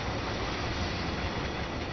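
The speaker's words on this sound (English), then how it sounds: "just wait for the whole train to go through" A DB class 80103/80104 train rolls past in Train Sim World on the Ruhr-Sieg Nord line near Hagen, giving a steady, loud, broadband rumble that holds evenly for the whole two seconds with no talking.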